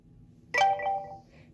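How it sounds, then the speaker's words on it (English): A short chiming email notification tone from a Lenovo Tab E10 tablet plays once, rising quickly and fading over about half a second in a quiet room. "That's what I hear when I have an email."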